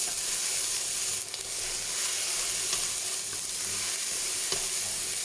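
Garlic cloves fry in oil in a pan for a ratatouille, a steady close sizzle with soft stirring scrapes and a brief dip in the hiss.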